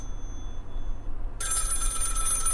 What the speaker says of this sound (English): Okay, answer the phone.